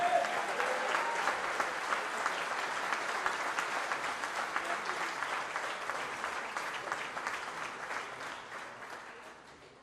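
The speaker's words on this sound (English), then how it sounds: "Give a round of applause for Ted." Audience applause breaks out at a Trump campaign press conference in Chicago as a local leader named Ted is welcomed up, a dense, sustained wash of clapping that gradually thins and fades toward the end.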